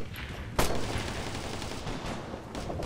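Gunfire from Operation Flashpoint: Red River crackles in a fairly faint, rapid burst of shots, with one sharper, louder crack standing out early on.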